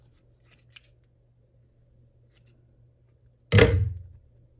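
Scissors snip once through the looped yarn tails of a handmade pom-pom, a single close, sharp cut after near silence with a couple of faint clicks beforehand.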